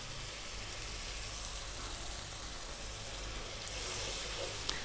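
Coconut milk poured into a hot pan of fried spice powders for a fresh tuna masala curry sizzles and bubbles in a steady, dense hiss that holds evenly throughout, close and fairly loud with no talking.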